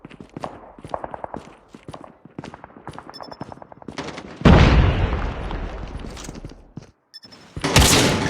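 Frag grenade in the Call of Duty Mobile video game: after a stretch of rapid gunfire, a loud booming blast with a long rumbling decay, then another burst of shots.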